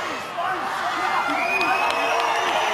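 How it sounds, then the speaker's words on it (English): A rugby crowd at a Northland versus Waikato Mitre Cup match in New Zealand chants a countdown, a steady wash of many voices with scattered whoops, heard at a distance under the broadcast atmosphere. "the crowd are giving you the countdown"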